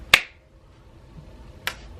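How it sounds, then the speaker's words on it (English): Two sharp, isolated hand claps about one and a half seconds apart, close and crisp, in an otherwise quiet indoor room during a makeup tutorial. "I clap in every video"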